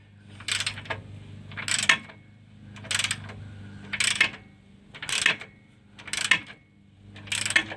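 An extended ratchet tightens a control arm bolt on a Dodge Ram 1500 during a bushing replacement, giving about seven evenly spaced bursts of clicking.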